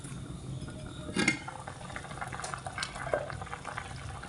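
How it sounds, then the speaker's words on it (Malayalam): Egg curry bubbles in a covered pot on the stove, a soft, steady simmering hiss with occasional faint pops and a light clink, quiet and close. "അപ്പോൾ കറി നന്നായി തിളച്ച് വന്നിട്ടുണ്ട്"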